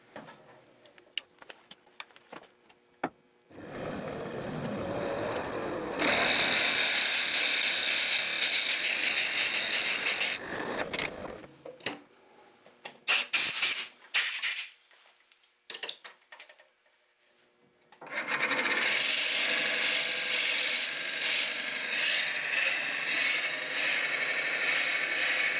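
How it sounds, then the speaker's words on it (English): Machine noise from a lathe with a drill boring into wood for a pepper mill, long stretches of steady grinding hiss broken by a pause with clicks and clatter, then resuming. "we're going to drill 1 inch in on this"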